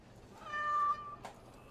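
A cat meows once in the video game Dragon Age: Awakening, a clear, rising-and-falling cry standing alone over a quiet background.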